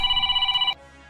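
Incoming-call ringtone on a phone: a rapid trilling electronic ring pulsing for about three-quarters of a second, then cut off abruptly, close and fairly loud with no talking.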